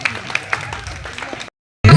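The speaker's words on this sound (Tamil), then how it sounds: "நல்ல ஒரு கைத்தட்டல் கொடுங்க" Audience clapping after a song at a stage event, scattered and moderately loud for about a second and a half, then cut off abruptly, followed by a brief loud burst of sound.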